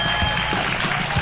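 Studio audience of a Catalan evening TV show applauding a guest, a loud, continuous burst of clapping throughout.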